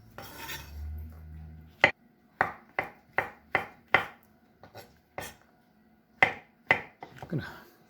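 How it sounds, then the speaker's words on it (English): A knife slicing across green beans on a cutting board, about a dozen crisp, separate chops in an uneven rhythm, close and clear after some brief handling noise. "I slice them across like this"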